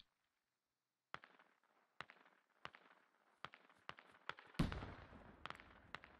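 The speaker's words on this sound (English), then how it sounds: "That's the bike exploding in the background there" In an online shooter game, a bike explodes in the distance with a heavier blast, set among a series of sharp, sparse gunshot cracks spaced about a second apart. Everything sounds faint and far off, with a brief silence at the start.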